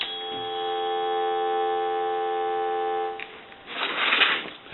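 An AT&T single-slot payphone gives a steady, even dial tone for about three seconds, followed by a short burst of broadband rustle or clatter.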